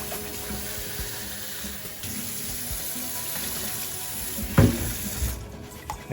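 Water runs steadily from a kitchen tap into a pot to cover rice, a continuous close-up gush with a brief louder splash near the end.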